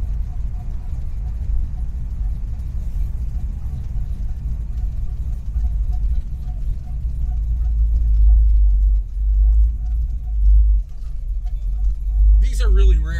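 Heavily modified 605-horsepower V8 in a 1970 Pontiac GTO with automatic transmission on a test drive, a steady deep engine rumble that swells louder toward the end, with a brief higher whine near the close.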